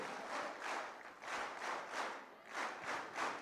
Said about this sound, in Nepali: हामी स्काउट तालीबाट उहाँको विदाई गर्छौँ